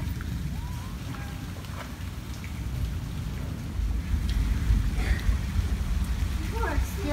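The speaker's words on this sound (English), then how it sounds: "And it's still raining." Steady rain during a tropical storm pours down continuously, with a heavier surge of rainfall near the end, while people talk faintly in the background and a few brief voices rise over the downpour.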